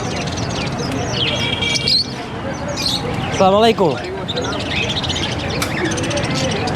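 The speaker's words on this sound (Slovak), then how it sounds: "Pozri, aké maličké papagáje, aj nejaké veľké vtáky" Small and large parrots chirp and tweet in a bustling parrot shop in Pakistan, bright calls scattered throughout with a louder squawk midway, while someone speaks a greeting and people talk nearby.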